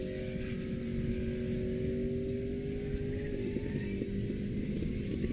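A turbocharged Coyote-engined Ford Mustang race car passes at speed on an airstrip, a loud sustained engine roar with a rising tonal whine that holds steady throughout.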